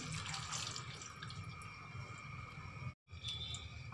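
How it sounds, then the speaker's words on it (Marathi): Water pours steadily into a bowl of cut potatoes being prepared for french fries, a close, continuous splashing trickle that cuts out briefly near the end before resuming. "आणि त्यानंतर टाकते मी त्यामध्ये पाणी."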